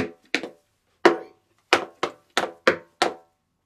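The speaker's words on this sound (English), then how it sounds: "From here, you're going to go step, scuff, and toe, heel, hop." Tap shoes striking a hard floor in a step, scuff, toe, heel pattern: crisp, close, separate taps, two quick ones, a pause, then a run of evenly spaced hits alone with no talking.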